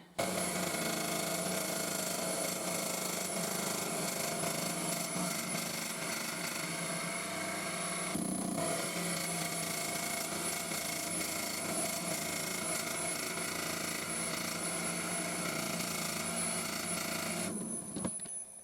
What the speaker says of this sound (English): I'm going to take all this out using a Forstner bit, and it's a 40mm Forstner bit